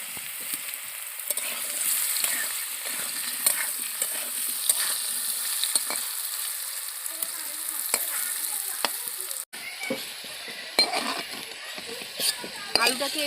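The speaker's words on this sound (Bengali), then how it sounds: "আলুটাকে ভালো করে লাল লাল করে ভেজে নেব।" Potatoes fry in a pan for a chicken and cauliflower dish, a steady close sizzle with occasional stirring clicks and scrapes throughout.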